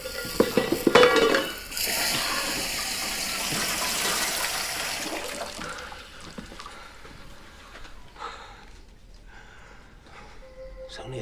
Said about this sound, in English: It's only a saucepan